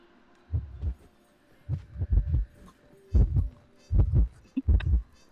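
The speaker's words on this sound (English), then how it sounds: "Heartbeat." Heartbeat warning from the Identity V video game: paired low, muffled thumps repeating at a steady throbbing pace over a faint hum, clear and close with no talk.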